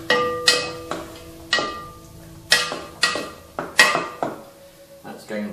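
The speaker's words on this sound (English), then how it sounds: "So another stir." A utensil stirs a Mediterranean-style dish in a pan, making a run of sharp metallic clinks and scrapes at an uneven rhythm, moderately loud and close by.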